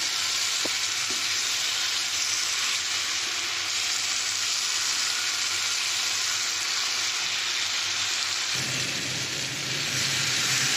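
Eggplant sizzling in a pan as it is lightly sautéed, a steady broadband hiss of hot oil that holds evenly throughout, with a soft clink early on and a slight shift in texture near the end.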